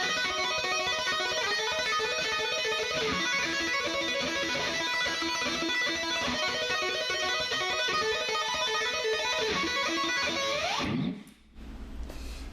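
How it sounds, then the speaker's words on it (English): Guitar notes played with a two-handed tapping technique in a dense, rapid, continuous flurry that rings on for about eleven seconds before stopping abruptly, with no voices. "I use two-handed technique to play the same notes."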